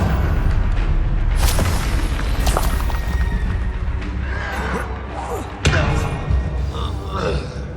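Bombarda spell blasts in Hogwarts Legacy, heavy booms and impacts over a constant loud battle din, with a sharp thudding hit near the end.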